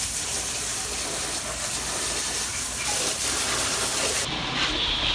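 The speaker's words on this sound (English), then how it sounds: "Yeah, can you tell? It's steaming." Hot water gives off a steady, loud broadband hiss of steam on a Ford 6.0 Powerstroke truck during cab removal, continuous throughout and heard alone.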